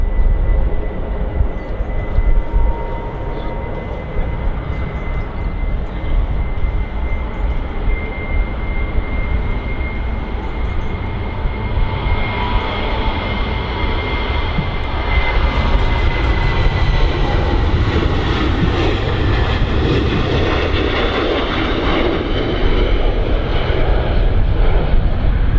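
A Jet2 Boeing 737 in silver livery passes at Manchester Airport, its engine roar loud and steady throughout with a broad rushing hiss that swells toward the end, no voices.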